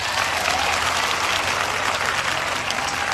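A church congregation applauds to acclaim God, a dense, steady wash of clapping from many hands filling the room at constant loudness for the whole span, with a faint voice murmuring underneath.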